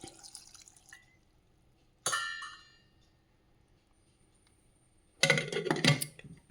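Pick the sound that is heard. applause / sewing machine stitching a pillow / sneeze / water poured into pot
water poured into pot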